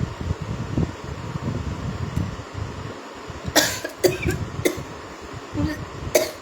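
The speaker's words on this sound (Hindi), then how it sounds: "लाइव शुरू न्यूज से पहले तुम्हें खांसी शुरू हो गई।" Several sharp coughs break out over a steady fan-like background hum, a few in quick succession and then another near the end.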